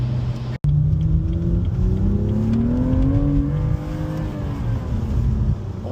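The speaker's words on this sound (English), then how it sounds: "Oh my god, the rev hang." A 2018 BMW M2 engine revs hard, its pitch climbing through a gear with a lingering rev hang before dropping off, a loud, close, sustained mechanical roar with a brief cut near the start.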